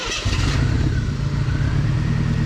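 A 1988 Ford Thunderbird Turbo Coupe that sat for 20 years catches and settles into a rough, steady idle, loud and close, with a clattery mechanical rumble after a brief start-up burst.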